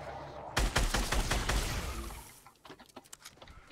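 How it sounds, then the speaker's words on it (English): Rapid bursts of gunfire in the video game Fortnite during a duos match, a loud dense volley over the first two seconds that thins into scattered, fainter shots and clicks. "they're shooting at me, man."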